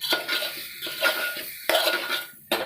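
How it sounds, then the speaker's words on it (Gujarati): Whole potatoes and brinjal being mixed for a curry, a spoon scraping and clinking against the pot in three or four close, busy bursts with brief pauses between, no talking. "હવે આ બધું જ મિક્સ કરી લઈએ."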